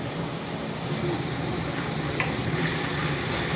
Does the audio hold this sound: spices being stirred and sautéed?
yes